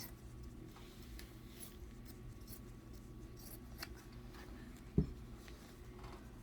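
Faint scissor snips cut through sock fabric for a winter penguin craft, quiet scattered clicks over a low steady hum, with one sharper snip standing out near the end.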